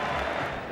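A cricket crowd at the Adelaide Oval during an England versus Australia Ashes match roars in a brief, loud, sustained burst of cheering.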